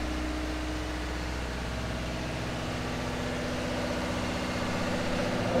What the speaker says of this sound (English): The noise is actually a generator over there.